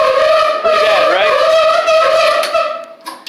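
A worn-out Whirlpool dryer with failing drum rollers runs close by with a loud, steady whine and harmonic squeal, wavering in pitch as the drum turns, alone without talk.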